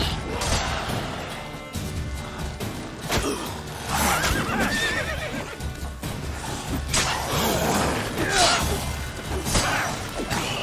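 A horse in The Witcher 3 whinnies repeatedly while hooves clop and occasional crashing impacts sound through dense, steady game action noise, close and fairly loud throughout.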